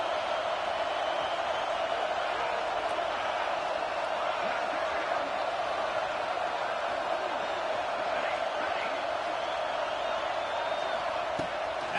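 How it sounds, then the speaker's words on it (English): A home crowd at a Georgia football game roars in a steady, dense wash of noise, with a commentator talking over it. "Man, this crowd really affecting the football game."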